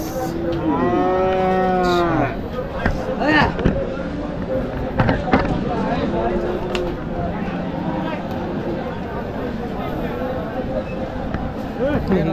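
A loud, drawn-out cow moo rings out nearby at the start, followed by cattle market bustle and people chatting.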